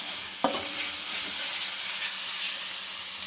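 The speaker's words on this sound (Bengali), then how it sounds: "এইবারে মাছগুলো আমি দিয়ে দিলাম মাছগুলো আমি এবারে কষাতে থাকবো" Dried fish and onion frying in oil in a pan, a steady hissing sizzle with a sharp clatter of a spoon stirring near the start, close and continuous.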